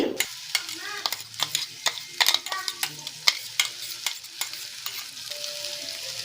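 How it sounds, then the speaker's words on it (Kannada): Hot oil sizzles loudly as ground chilli is stirred in a pan, with sharp crackles and scraping clicks spread across the clip. "ಆಯಿಲ್ ಬಿಸಿ ಆದ್ಮೇಲೆ ಮಿಕ್ಸರ್ ಮಾಡಿದ ಚಿಲ್ಲಿನ ಹಾಕೊಳ್ತಾ ಇದ್ದೀನಿ"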